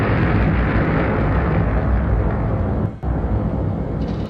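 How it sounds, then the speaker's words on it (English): Explosion of a space object entering Earth's atmosphere, a sustained loud rumbling roar with a dense low blast that rolls on for several seconds, a brief dip midway, then continues heavy and close. "it broke into our atmosphere, and then came the explosion"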